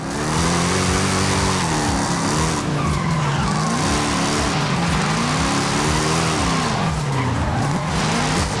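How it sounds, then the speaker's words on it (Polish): Car engine in Forza Horizon 5 during a drift show, loud and continuous, with rising and falling revs and tire skidding throughout, no talking. "coś ten mój autek na tej trójce za mocno się dusi"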